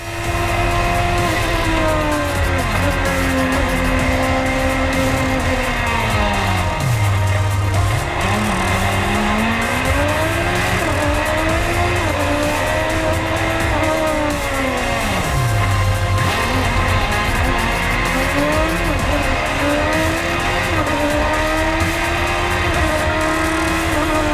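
A race car engine at the Pikes Peak hill climb in 2020, howling steadily under load with pitch rising and falling through gear changes, two deep dips where it drops low before climbing again, loud and continuous.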